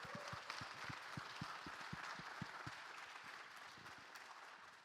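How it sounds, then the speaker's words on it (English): An audience claps at the end of a talk at a tech event in Paris, steady mixed clapping with a few distinct close, sharp claps, moderately quiet and continuous for five seconds. "big round of applause"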